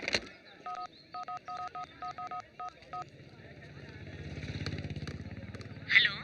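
A rapid series of short touch-tone dialing beeps, about ten in quick succession, followed by a low rumbling hum and a faint click.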